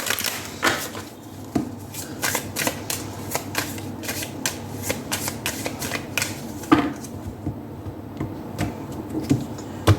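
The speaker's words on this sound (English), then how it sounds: "Now we are going to start off with a whole lot of oracle cards." Oracle cards being shuffled by hand, a continuous run of quick, close papery riffles and soft slaps in an irregular rhythm.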